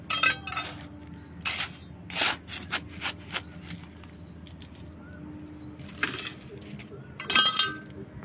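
Sand pours into flower pots over a layer of brick chips in a rooftop garden, with several separate gritty rushes and rubbing scrapes between quiet gaps, close and fairly loud.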